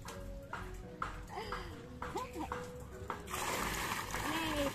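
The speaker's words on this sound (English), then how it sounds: "Ganito yung shower." Shower water starts running partway through, a bright, steady splashing spray that swells to fill the space after scattered knocks and voices talking and laughing nearby.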